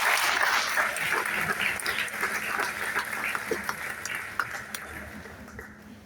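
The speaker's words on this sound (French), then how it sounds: "on peut les applaudir s'il vous plaît" Audience applause for participants at a closing and prize-giving ceremony, a broad wash of clapping that starts fairly loud and slowly thins and fades, with talk and noise mixed in.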